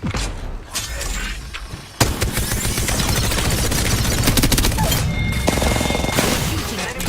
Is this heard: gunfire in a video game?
yes